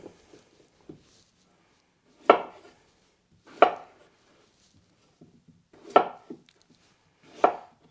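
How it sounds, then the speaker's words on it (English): A knife cuts peeled potatoes into quarters on a board, four sharp, separate chops spaced a second or more apart in a quiet room, each with a short woody thud. "And I'll just cut them into quarters."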